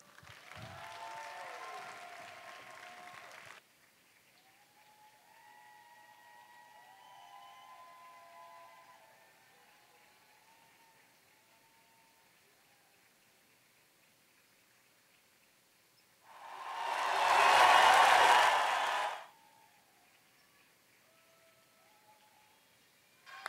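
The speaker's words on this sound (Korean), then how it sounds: "여러분 큰 박수로 마무리해 주시기 바랍니다" An audience at a 2018 Culture Night event bursts into a loud round of applause near the end, preceded by a short, fainter burst of clapping and quieter stretches with background murmur.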